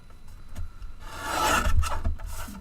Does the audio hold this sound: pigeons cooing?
no